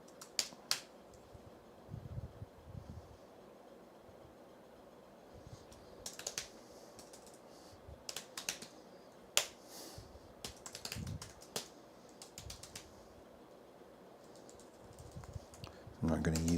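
Quiet computer keyboard typing sounds as scattered clicks and bursts of keystrokes against a faint background, with some louder clacks and a thump at the end.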